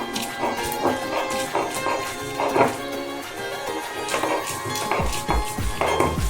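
Grated coconut, green chillies and spices ground on a stone slab (shil), a steady rhythm of gritty scraping and knocking strokes, close and moderately loud.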